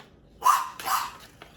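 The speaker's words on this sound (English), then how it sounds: "And so he barks at pretty much nothing, sometimes something." A pet dog barking indoors, two close, loud barks in quick succession followed by a faint trailing yip.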